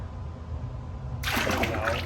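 Ceramic glaze pours quickly out of a roller-textured teabowl (chawan) in a pottery studio, starting as a sudden liquid splash and rush after a moment of low background hum, with no talking.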